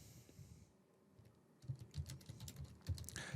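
Typing on a computer keyboard starts after a quiet moment, a run of soft, close keystrokes in quick uneven succession, faint and alone without speech.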